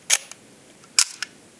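The shutter of a Minolta 35 rangefinder camera fires twice, about a second apart, and each release gives a crisp, close metallic click followed by a lighter secondary tick against near silence.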